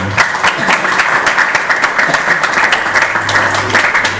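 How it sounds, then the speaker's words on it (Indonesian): Audience applause fills a talk on writing and reportage techniques for Islamic boarding school students: dense, steady clapping from many hands, loud and sustained throughout with no break. "Tepuk tangan."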